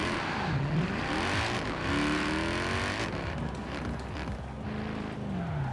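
Alfa Romeo 155 with a 1000 HP supercharged engine in Forza Horizon 4, revving and accelerating through rising and falling gear sweeps, a loud, close, continuous engine tone with a whining edge and no talk.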